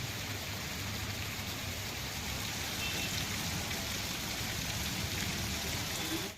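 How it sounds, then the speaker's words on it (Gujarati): Heavy early-morning rain in Bhanvad, Dwarka district, Gujarat: a dense, unbroken hiss of downpour on surfaces, steady and fairly loud for over six seconds before cutting off abruptly. "વહેલી સવારે ભાણવડમાં 2 ઇંચ જેટલો વરસાદ ખાબક્યો."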